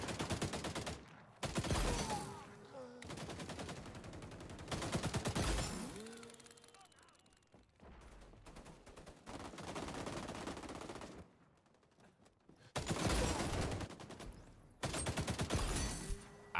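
Automated turret in the XDefiant Waterfront map firing off loud, sustained bursts of gunfire in several long stretches separated by brief quieter gaps, close and dense.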